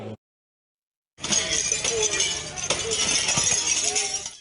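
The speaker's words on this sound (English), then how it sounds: "The sound of breaking glass could be heard at Northeast 9th and Everett" Glass windows being smashed by a group during a riot on a city street corner at night, a dense run of shattering and clinking fragments with crowd noise underneath, starting after a brief silence.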